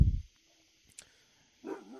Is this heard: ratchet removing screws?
no